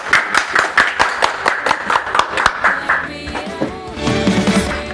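An audience claps at a village head's podcast event, a burst of sharp, uneven hand claps that carries for several seconds before fading into a looser, softer patter.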